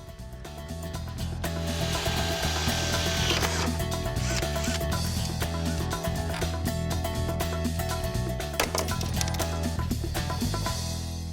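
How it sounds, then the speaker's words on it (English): A drill grinds steadily into a metal bracket tab on a Trans Am up close, a continuous harsh whirring with scraping and rattling, running without pause throughout. "we can mark some holes on the bracket and drill into this metal tab."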